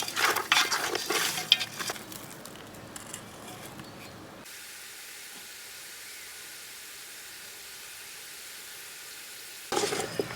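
Chicken pieces frying in oil and occasionally stirred for a Telugu chicken pickle, giving a hissing sizzle with scraping and clatter at first, then a steady quieter sizzle, with another burst of stirring noise at the end.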